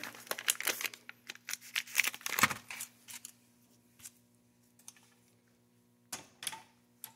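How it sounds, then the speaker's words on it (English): Scissors snip and crinkle through the sealed plastic wrapper on a new ADM rifle bolt carrier group, giving quiet irregular cuts and crackles in bursts, then near silence and a final brief rustle. "So I got my scissors out, I'll chop these open."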